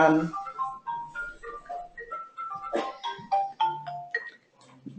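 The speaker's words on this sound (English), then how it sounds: "I think you might have heard that Vicky's phone just rang" A mobile phone ringtone plays a bright, bouncing melodic tune, moderately loud and close, with no other sounds over it.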